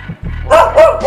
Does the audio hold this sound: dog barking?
yes